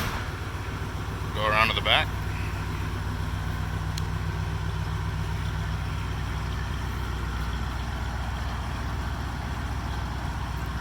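A 1963 Buick Riviera V8 idles steadily with a low, even rumble throughout, while a voice speaks briefly near the start.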